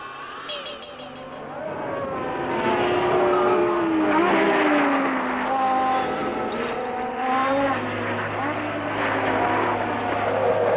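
Formula One race cars from 1973 roar off the line at a race start, a dense, loud wash of rising and falling engine notes sustained throughout the clip.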